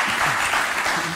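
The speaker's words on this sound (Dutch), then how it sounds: "Even een applaus, dat vind ik een applaus." An audience at a bodybuilding masterclass breaks into brief, dense applause, a short burst of many hands clapping together.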